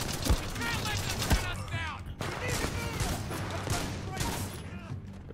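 Dense automatic gunfire in the video game Titanfall 2, with rapid bursts from a Spitfire machine gun layered with other weapon and combat effects, loud and continuous throughout.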